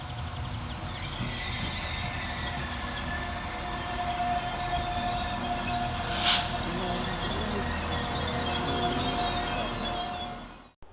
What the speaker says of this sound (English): here comes our train to pick us up in the form of 195017